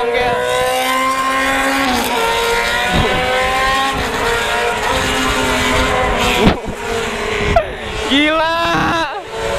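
A Kawasaki ZX6R motorcycle with a loud aftermarket exhaust revs and roars nearby while riding through city traffic, with rising and falling engine pitch and sharp pops, while people talk over it.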